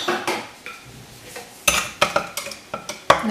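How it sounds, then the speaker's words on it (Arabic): A spoon stirs sugar and yeast in a bowl for bread dough, scraping and clinking against the dish in a quick irregular series of sharp taps that grow louder toward the end. "وبنحركهم سوا هلا"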